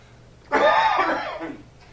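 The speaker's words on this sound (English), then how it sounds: "I've got a cough." A single loud, raspy cough bursts out close by, trailing off over about a second against quiet background hum.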